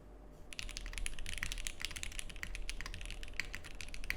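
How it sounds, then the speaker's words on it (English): Rapid keystrokes clatter on a mechanical keyboard close by, a steady stream of crisp clicks with no voices. "Take a listen at this typing."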